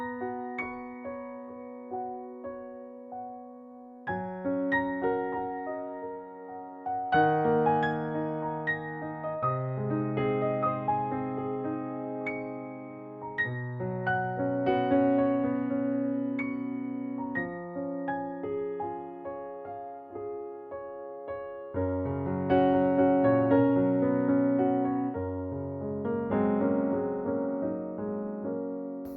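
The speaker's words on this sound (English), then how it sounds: "what you just heard was a Bosendorfer Imperial Grand that was meticulously reproduced by Yamaha" A Yamaha Clavinova CLP-625 digital piano, using its Bösendorfer Imperial Grand sample, plays a slow, rich passage of chords and melody with sustained low notes, clear and close, with no talking.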